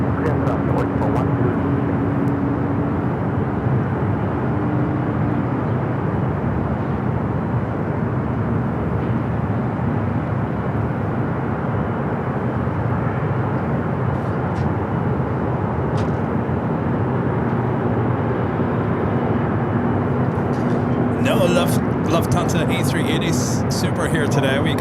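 Jet airliners landing and departing on runway 24 right at Los Angeles International Airport produce a steady, loud engine roar throughout, with a brief higher hiss near the end and radio voices faintly beneath.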